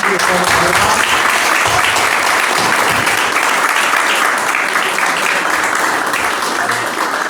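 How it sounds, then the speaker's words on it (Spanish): Applause from a church congregation honoring the children, a dense, steady wash of many hands clapping at full volume throughout, with no talk over it. "Vamos a dar un aplauso a los pocos niños que hay"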